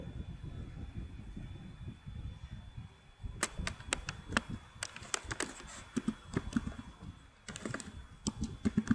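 Text is typed on a computer keyboard into Photoshop: after a quiet start, a long run of rapid, irregular, crisp key clicks fills the rest of the stretch over a low background hum.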